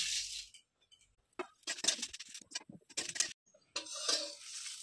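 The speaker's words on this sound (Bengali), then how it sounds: "গোটা জিরে, গোটা ধনে, মৌরি, কালো জিরে, লঙ্কা, তেজপাতা শুকনো কড়াতে ভেজে নেব।" Whole cumin, coriander, fennel, nigella, dried chillies and bay leaves are dry-roasted in a wok, making scattered light rattles, scrapes and ticks of spices tossed against metal, loud in bursts with short quiet gaps.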